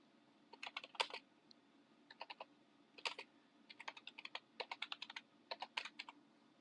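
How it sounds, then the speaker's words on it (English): Quiet typing on a computer keyboard comes in quick irregular bursts of crisp key clicks over a low steady hum, with short pauses between runs of keystrokes. "That was a lot of typing for not a whole lot."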